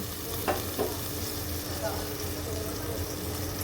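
Fried magur catfish pieces dropped into boiling gravy for a dopiyaza, a soft bubbling sizzle with a couple of light splashes and clinks near the start, fairly quiet and steady.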